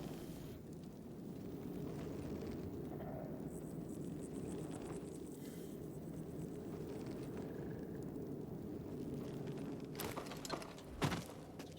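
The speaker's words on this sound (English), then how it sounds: "It's just fireworks" Fireworks go off outside, heard faintly from indoors as a continuous low rumble with scattered pops and a couple of sharper bangs near the end.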